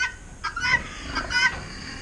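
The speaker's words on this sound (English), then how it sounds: "It's a guinea hen." A few harsh, squawking bird calls from a guinea hen, close by, repeated in quick bursts over a quiet background.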